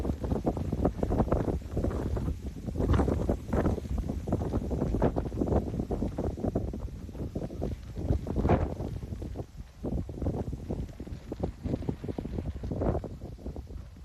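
Wind blows outdoors in loud, gusty buffets that rumble against the microphone, rising and falling in uneven surges throughout with no voices.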